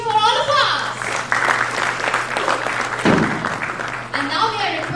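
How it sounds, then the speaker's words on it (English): Audience at a blockchain summit cheering and applauding, a broad wash of clapping and shouts that swells and continues throughout, with a voice over a loudspeaker talking at the start and end. "Can we have a huge cheer for all of us?"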